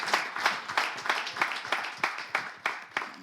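A small group claps in a steady, rhythmic applause, moderately close, with roughly regular beats and no speech over it.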